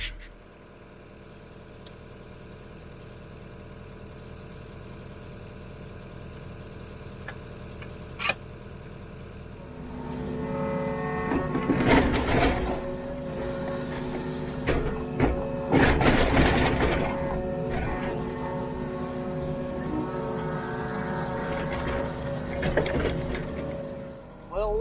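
A Yanmar VIO55 mini excavator runs with a steady diesel drone while the bucket is worked to knock dirt loose, producing clanks and scraping bursts over the engine, nearby and fairly loud.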